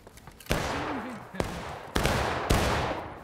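Musket volleys crack out in a War of Rights battle, four sharp shots spaced across a few seconds, each with a long rolling echo, alongside faint distant firing and a brief voice-like tone.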